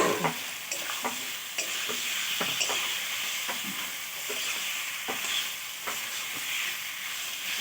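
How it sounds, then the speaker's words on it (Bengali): Meat sizzles loudly in a pan as tomatoes and water are added, a steady hissing fry broken by regular scraping stirs of the spoon, close and continuous with no voices. "তারপর টমেটো দিয়ে দিই, এই যে কত টমেটো দিয়ে দিচ্ছি এখানে"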